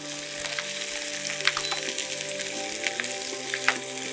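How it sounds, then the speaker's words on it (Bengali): Punjabi chickpea masala fries in a pan with a loud, steady sizzle and scattered pops heard up close, with no talk. "দেখো তো এটা আরেকটু ভাজা হবে না"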